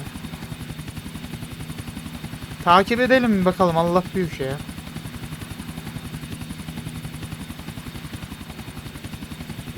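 Helicopter in the video game GTA Vice City, a steady rotor hum throughout with rhythmic blade pulses, while someone talks over it for a couple of seconds in the middle.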